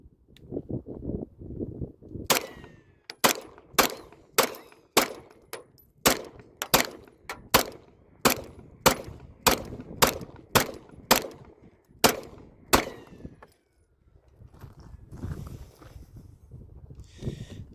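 A Springfield Armory XD Mod 3 pistol fires a magazine loaded to 16, giving sharp, loud shots in a steady string of about fifteen at an even pace, then stopping into outdoor quiet.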